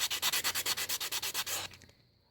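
A reliefing block rubbed back and forth over embossed metal, about a dozen quick, even scraping strokes in a steady rhythm, close and crisp, ending with a brief fading scrape.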